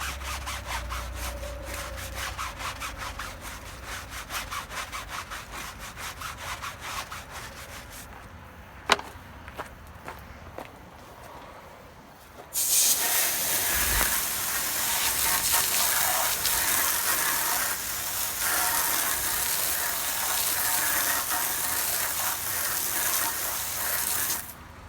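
A stiff-bristled dedicated wheel brush scrubs a car wheel coated in wheel and tire cleaner, with rhythmic scratchy strokes up close. Around midway a louder, steady rushing wash of spray or water takes over, and the scrubbing continues beneath it.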